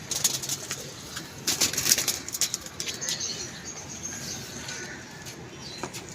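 Teddy pigeons give soft cooing amid rustling and brief wing flutters, close by in a loft setting, with a low background murmur and no clear talking.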